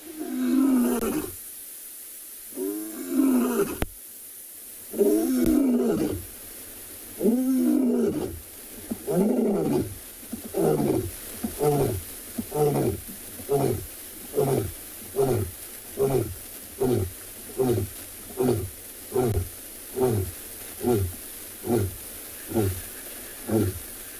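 A lion lying down on a South African safari reserve at sunrise, giving a long roaring sequence: a few deep drawn-out roars followed by a steady series of shorter rhythmic grunts that fade gradually, close and loud, no voices over it.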